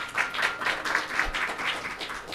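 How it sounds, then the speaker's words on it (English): An audience at an academic debate competition gives the committee a round of applause, dense and even clapping from a crowd across the whole moment. "please give a big round of applause to our committee"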